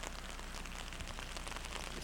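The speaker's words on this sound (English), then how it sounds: "It's a little rainy here." Light rain falling steadily outdoors on a disc golf course, a soft continuous patter of drops with no talk over it.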